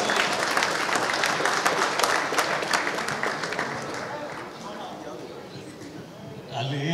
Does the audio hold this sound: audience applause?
yes